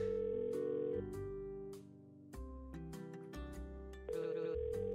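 An old telephone ringing inside a video game, repeated bell-like electronic tones in short bursts over a layered musical background, moderately quiet and alone without voices.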